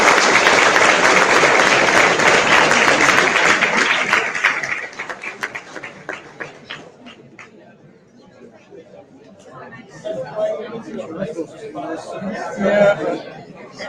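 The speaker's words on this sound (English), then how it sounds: "Can you have a round of applause to Mark Dawson, please?" Conference audience applauding a speaker, loud dense clapping that gradually thins into scattered claps and fades, followed by murmuring chatter from the crowd.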